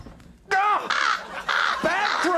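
A crow gives loud, harsh repeated caws from close by, about four calls in quick succession, under a bit of background noise.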